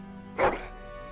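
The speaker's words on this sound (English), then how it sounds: "That is a wonderful dog." A dog in the Dragon Age Origins video game gives a single short, loud bark at close range against a quiet backdrop.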